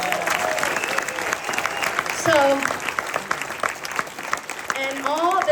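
An audience at an entrepreneurs' event claps in a lively round of applause, a dense crackle of hands with occasional cheers and voices rising over it, a short spoken word near the end.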